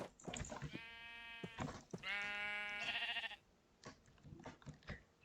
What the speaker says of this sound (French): je trouve plein de moutons